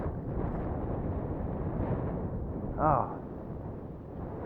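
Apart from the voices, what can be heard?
strong wind gusting around a Boeing 787 at the airport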